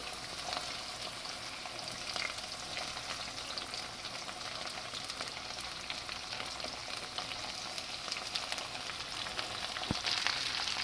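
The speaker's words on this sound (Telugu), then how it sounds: "ఇప్పుడు ఇందులో మనం సన్నగా చక్రాల్లా తరిగిన దొండకాయలన్నీ వేసుకోవాలండి" Thinly sliced ivy gourd rounds fry in oil in a pan, making a steady, soft, continuous sizzle heard alone throughout, with occasional faint stirring.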